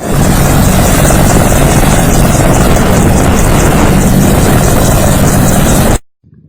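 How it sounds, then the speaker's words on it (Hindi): An Apache helicopter landing at a helipad in Kishtwar, a loud, steady rotor thrum and engine roar close by for several seconds before cutting off abruptly. "किश्तवाड़ के हेलीपैड में अपाचे हेलीकॉप्टर की लैंडिंग हुई"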